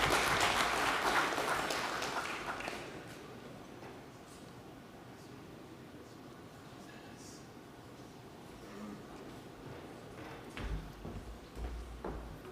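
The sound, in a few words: audience applause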